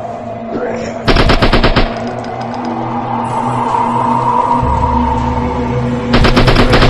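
Gunfire in the SCP Pipe Head horror game on Android, heard as loud rapid automatic bursts at the start and the end of the clip over a steady droning in-game ambience.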